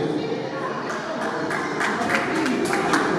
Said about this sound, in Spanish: Un fuerte voto de aplauso para ella.